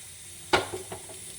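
A ladle stirs saffron rasmalai through warm syrup in a pan, giving one sharp scrape followed by a couple of softer swishes against a quiet background.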